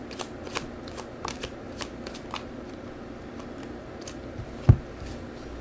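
Tarot cards shuffled and drawn during a reading, a soft papery riffle and scattered light slaps spread across the stretch, ending in one sharp louder snap of a card set down, close and quiet with no talking.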